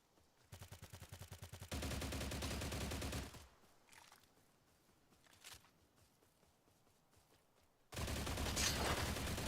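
Automatic AK rifle fire in the video game STALCRAFT: a rapid burst of shots, then a sustained loud volley, a quieter pause with scattered impacts, and another loud stretch of gunfire to close.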